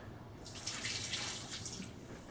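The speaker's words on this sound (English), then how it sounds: "All right, so I'm going to add more water to my mix" Water pours steadily for about a second and a half into a quarter bucket of drywall mud mix, a soft splashing trickle over faint background hiss.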